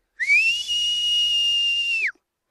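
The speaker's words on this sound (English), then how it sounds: "how she talks to the cranes with her special whistles" A woman gives a long, clear whistle to call black-necked cranes at their wintering habitat in southwest China: one loud, sustained high tone that rises sharply, holds steady for about two seconds, then drops off, alone.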